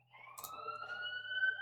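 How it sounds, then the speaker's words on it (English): A police car siren wails steadily in the background, its sustained rising and falling tones running through the whole stretch at moderate distance, with a brief scuffing noise near the start and no speech. "Sorry for if you can hear the police alarm in the background."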